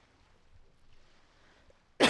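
A single short, loud cough breaks out close by at the very end, after a near-silent stretch with faint room noise.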